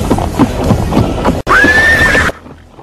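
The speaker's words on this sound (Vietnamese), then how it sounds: "Ngựa hí lên vang vọng cả trường đua" A horse neighs loudly at a racetrack, preceded by hoof clip-clop and a rising, sustained whinny that cuts off abruptly, used as a sound effect in a Vietnamese audiobook.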